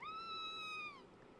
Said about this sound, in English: Who killed a cat?